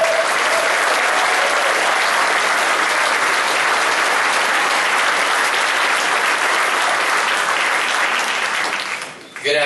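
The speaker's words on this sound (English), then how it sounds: "Let's have a round of applause for Florida House District 33's new representative, Brett Hage." A large crowd applauds steadily and loudly for Brett Hage, the new Florida House District 33 representative, at a gathering in The Villages, Florida; the dense clapping holds throughout and tapers off at the very end.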